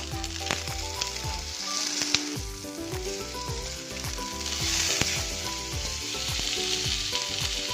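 Salmon pieces frying in very hot oil in a pan for a mustard-cheese salmon steak, giving a steady, loud, close sizzle with crackling pops throughout and no talking.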